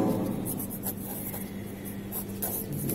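A pen writes out a math solution on paper, with continuous close scratching strokes and short pauses between words, steady and fairly loud.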